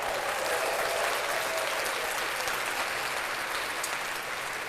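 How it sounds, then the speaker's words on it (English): A burst of steady clapping from a group during a live sports talk show, even and continuous for a few seconds and fairly soft, with no voices over it. "Well, let's clap that up."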